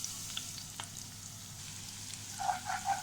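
Garlic frying in hot coconut oil in a pan for squid fry, a soft steady sizzle with a few faint stirring clicks, swelling into brighter crackling spatter toward the end.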